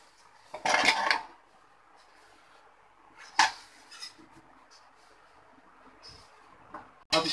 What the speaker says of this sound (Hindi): अब इसको हम खोल के देखते हैं।